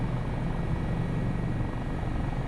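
Constant low rotor thrum and turbine roar from an AS365 Dauphin helicopter in flight in Microsoft Flight Simulator 2024, loud and unbroken with a steady throbbing beat and no voices.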